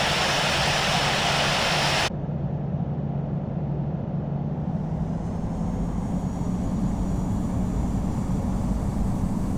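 An Airbus A319-100 jet taxiing to runway 27 right at London Heathrow, its engines giving a steady, loud whine and rumble. A bright hiss drops away early on, leaving a constant drone.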